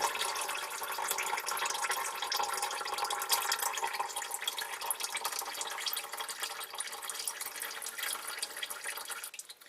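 Dark manual transmission fluid pouring steadily from a pulled drain plug into a pan, a continuous liquid splash and trickle close by, fairly even throughout with no talking.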